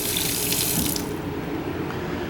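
Water runs steadily from a pull-out kitchen sink sprayer in a 2024 Retreat 39CLCDL park model, a continuous close hiss that cuts off about halfway to a quieter tail.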